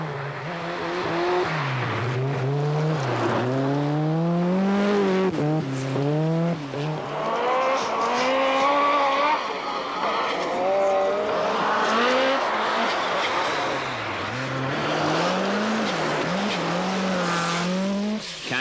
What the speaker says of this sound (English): the tyres become skates as the cars power across a frozen lake